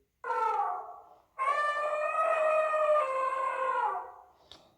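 A teacher imitates an elephant trumpeting with her voice, giving a shorter wailing call followed by a long, sustained tonal blare. The calls are close and steady in a quiet room.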